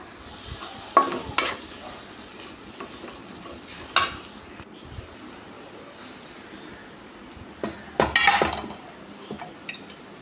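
Beef curry being stirred in a pan with a spoon, giving a low background sizzle with clinking, scraping stir strokes that come in bursts, close by.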